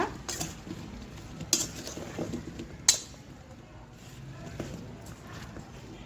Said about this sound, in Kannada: ಎಲ್ಲನೂ ಚೆನ್ನಾಗಿ ಬೆರೆಯೋ ಥರ ಮಿಕ್ಸ್ ಮಾಡ್ಕೊಳ್ಳೋಣ